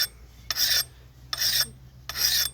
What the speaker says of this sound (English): I'm going to try and sharpen these items